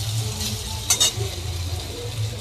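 Potatoes and vegetables stirred and fried in a pan, a steady sizzle broken by a couple of quick scraping strokes of a utensil near the middle, close and with no talking.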